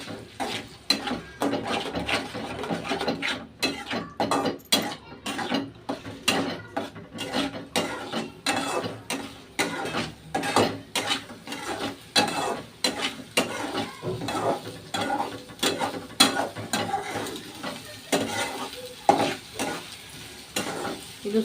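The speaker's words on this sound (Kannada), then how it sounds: "ನಾನು ಇವಾಗ 3 ಮೊಟ್ಟೆ ಹಾಕ್ತಾ ಇದ್ದೀನಿ." Three eggs frying in a pan for North Karnataka egg palya, with a spatula repeatedly scraping and stirring in an uneven rhythm over a steady sizzle, close and clear with no talking.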